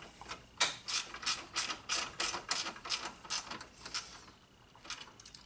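A ratchet snugs 10 millimeter fasteners into plastic during a Honda Civic A/C condenser fan replacement, giving a run of quick, close, fairly soft clicking bursts with short pauses.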